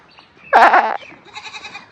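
Goats on a village farm bleat while waiting to be fed. One loud, wavering bleat sounds close by, followed by a second, thinner bleat that trails off against a quiet background.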